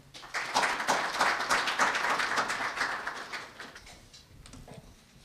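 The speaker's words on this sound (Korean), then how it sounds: "김세용 사장님께 다시 한번 큰 박수 부탁드리겠습니다" Audience at a university campus-town conference opening ceremony breaks into applause that swells quickly, holds as dense sustained clapping, then thins and fades out.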